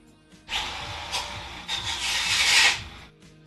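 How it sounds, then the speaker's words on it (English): Sanding burrs off a workpiece in a shop: a steady abrasive rubbing rasp, close and fairly loud, building in strokes for about three seconds before stopping. "Gotta sand the burrs."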